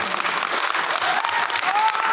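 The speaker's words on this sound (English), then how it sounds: "Can I please have a very, very big round of applause?" A gallery audience at an art exhibition opening applauds three artists with a steady, dense wash of clapping that holds from start to finish, with a faint voice or tone rising above it near the end.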